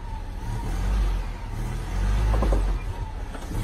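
A Jeep crawls through a deep ditch, its engine rumbling low and then surging as the rear tires climb out. The motor swells twice, heavy and close, with faint rattles near the end.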